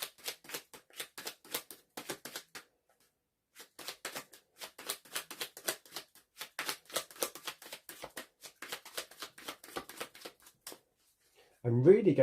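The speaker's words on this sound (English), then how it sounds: "as I'm shuffling this and looking at these cards" Tarot cards shuffled by hand during a reading, crisp rapid riffles and taps in repeated bursts with short pauses between, close and fairly quiet, ending with a brief louder thump.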